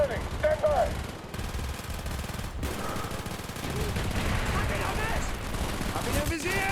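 Sustained automatic gunfire and bursts of shots crackle through a Call of Duty battle scene, dense and loud throughout, with soldiers' shouted voices mixed in.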